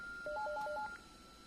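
A steady electronic tone with a rapid sequence of short, beeping tones over it, the ringtone of an LDP-9208D digital desk phone on an iPECS eMG100 system played back, clear and close.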